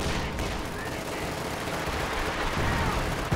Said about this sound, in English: And they're tossing grenades at each other.